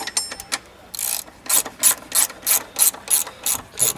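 Hand ratchet tightening the bolts of an aluminum oil filter housing on a Ford Mustang, a few short clicking strokes followed by a steady run of rhythmic ratcheting swings, close and crisp with no talk.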